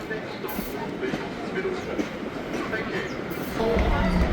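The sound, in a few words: tourist train running from Victor Harbor to Goolwa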